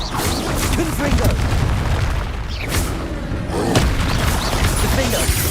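Confringo blasting spells from Hogwarts Legacy go off as loud booming bursts with crackling debris, several in a row, amid someone shouting spell names.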